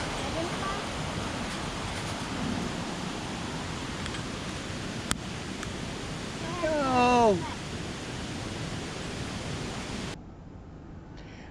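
Rushing water at Berkelah Waterfall, a steady broadband hiss heard from a moderate distance, with a brief voice sound partway through before the roar cuts off near the end.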